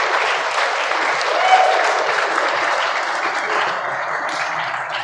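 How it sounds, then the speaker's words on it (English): Wedding guests at a Stones of the Yarra Valley ceremony clap steadily for the band, a warm, even wash of applause lasting several seconds. "what about a round of applause for our lovely band here today?"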